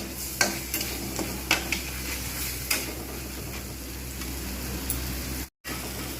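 Homemade spice masala frying in a pan for a Bengali kabuli chana dish, a steady close sizzle broken by repeated scraping stirs and light spatula taps, continuous until a brief cut near the end, with no talking.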